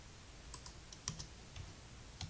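Keys clack on a computer keyboard, soft and sparse, a handful of separate taps at close range in a quiet room.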